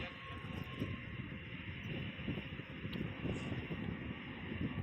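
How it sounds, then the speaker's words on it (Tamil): Airplane engines roaring as a flight arrives at an airport in Qatar, a steady broadband jet rumble, distant to moderate and continuous for the whole stretch. "இப்போ ஒரு ஃப்ளைட்டு வந்து அரைவல் ஆகுது பாருங்களேன்"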